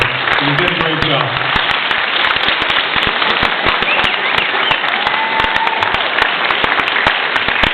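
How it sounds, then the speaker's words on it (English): Loud, dense applause from a concert audience for a young drummer in a university jazz band, sustained clapping filling the hall for several seconds with a few whoops and crowd murmur underneath. "Would you please give a very nice, warm applause for that young drummer, Taylor Stewart, on that last tune"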